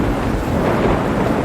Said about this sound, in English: there's a huge crash of lightning